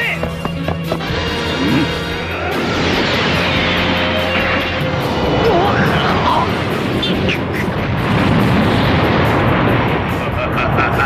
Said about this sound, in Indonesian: Nappa menembakkan sebuah tembakan laser ke arah Krillin dan mengakibatkan ledakan yang cukup besar di tempat tersebut